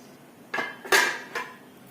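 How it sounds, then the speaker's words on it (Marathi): A metal lid lifted off a pan of freshly cooked semolina halwa in a home kitchen, giving a few short clanks and scrapes of metal on metal, the loudest in the middle, with no talking. "पाच मिनिटं झालंय आता आपण झाकण काढूया"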